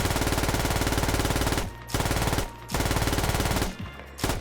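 An MG3 machine gun in the video game Squad fires in long, rapid, loud bursts, three sustained strings of shots broken by short pauses, with no talking over them.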